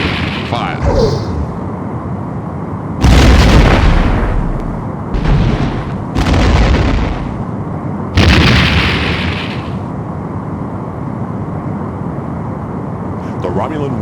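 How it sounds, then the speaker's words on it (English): Torpedoes fire at a Romulan warbird in the Star Trek: The Next Generation – A Final Unity video game, several loud booming blasts with whooshing tails that burst over a steady low hum. "Targeting Romulan warbird. Torpedo locked."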